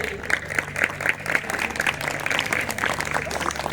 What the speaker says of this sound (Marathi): सर्व उपस्थित मान्यवरांसाठी जोरदार टाळ्या झाल्या पाहिजेत.